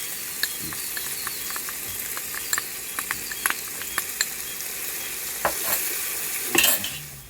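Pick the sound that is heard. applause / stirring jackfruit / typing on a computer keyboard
stirring jackfruit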